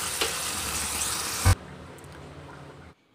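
Fried golden onion tempering, switched off and added to Kerala chickpea curry (kadala curry), makes a bright hissing sizzle that bursts loudly at one moment, then drops to a softer bubbling before cutting out.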